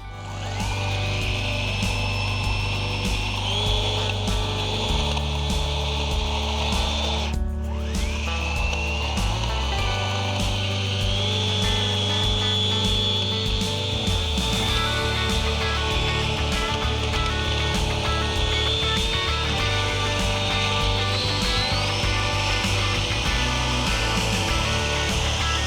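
A Makita rotary scissor trims grass around lawn edges with a steady, loud mechanical whir and buzzing drone that runs continuously, its pitch shifting slightly as it works, close up with no talking.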